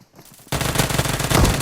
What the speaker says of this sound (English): he's getting hit with a shotgun too